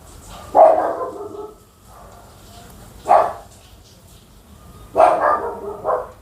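A dog barks three times, spaced a couple of seconds apart, with the last bark doubling into a quick pair, fairly close in a quiet room.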